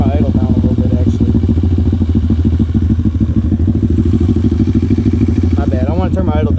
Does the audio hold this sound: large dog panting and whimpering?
no